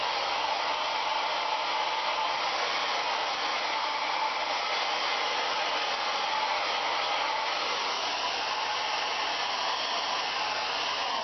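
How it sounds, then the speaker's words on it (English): A hair dryer blows steadily and loudly throughout, a constant airy whoosh with no pauses or voices. "Sometimes it's just worth as well having your hairdryer at hand. Give it a little going over."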